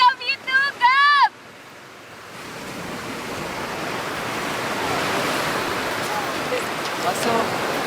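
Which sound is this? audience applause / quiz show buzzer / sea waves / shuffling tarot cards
sea waves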